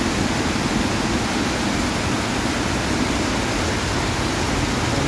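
Creek swollen after sudden heavy rain, water rushing hard in a constant, loud, broadband roar with no pauses or voices.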